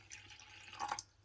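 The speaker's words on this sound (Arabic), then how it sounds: "أول شي راح أضيف المي على الملح" Short splash of water poured onto salt in a pan for roasting peanuts, a brief trickle with a couple of drippy plops, faint and close.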